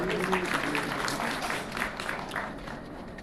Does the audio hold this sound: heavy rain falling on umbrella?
no